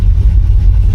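A Chevy Bel Air engine idles steadily as its choke opens, a close, even low rumble with no voices.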